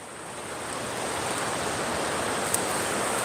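Floodwater rushes down a mountain walkway during a flash flood in Pigeon Forge, a loud, continuous broadband roar of churning water.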